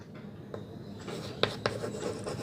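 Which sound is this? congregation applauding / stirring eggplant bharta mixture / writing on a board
writing on a board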